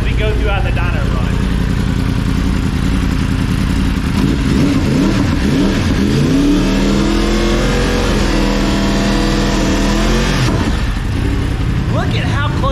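A 2023 Yamaha R1M superbike engine revs hard on a dyno, rising through the gears in a loud, sustained climbing wail, then dropping off near the end, with a voice partly under the roar.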